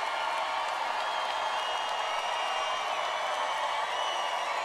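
A live concert crowd at a sea shanty medley performance cheering and applauding, a dense, continuous wash of clapping and whoops that stays steady and fairly loud throughout.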